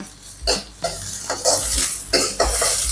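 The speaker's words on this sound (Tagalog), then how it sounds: "Gisa lang natin ang sibuyas. Sunod na rin natin ang bawang. Gisahin lang natin hanggang sa umamoy." Onion and garlic sautéing in a little oil in a pan, close bursts of sizzling and stirring scrapes that rise and fall, with spoon knocks against the pan, no voices.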